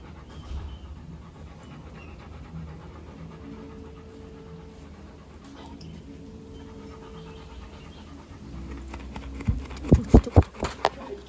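A little dog pants steadily and softly up close for a long stretch, followed by a few sharp, louder bursts near the end.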